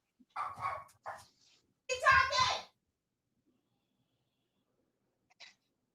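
A dog barks and yelps in a few short bursts indoors, fairly close, with a voice nearby and quiet gaps between.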